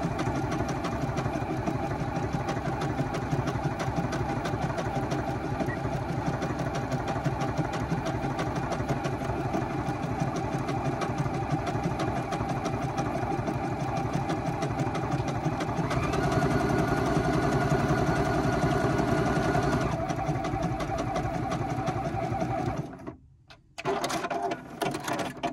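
A Juki HZL G220 sewing machine stitches continuously at a fast, even motor hum and needle clatter, loud and close for over twenty seconds, then stops briefly in a couple of short breaks near the end.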